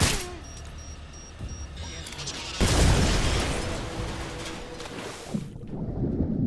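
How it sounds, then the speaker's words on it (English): A deep booming explosion and heavy blast roar erupt partway through in the Metal Gear Solid Delta: Snake Eater game, following a quieter windy rumbling stretch, with a voice speaking briefly near the end. "We're under fire."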